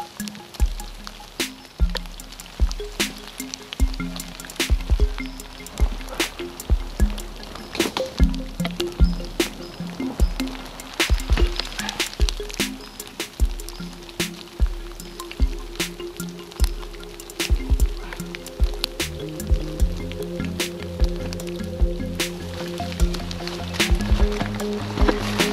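Heavy rain and hail falling during a bike ride toward Mt Donna Buang, with sharp scattered pattering impacts and wet splashing sounds continuing throughout, close and fairly loud.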